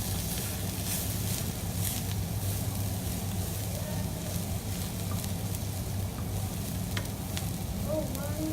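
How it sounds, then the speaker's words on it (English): Cauliflower rice stir-fries in a hot pan with a loud, continuous sizzle throughout, broken by occasional faint clicks of stirring. "We want it to cook but not burn."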